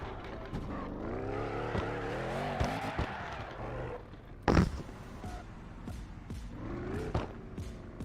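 Nissan S15 and A90 Supra drift cars, both 2JZ-powered, roaring through a tandem drift run with wavering engine revs, a sharp screech burst midway and steady loud engine drone throughout.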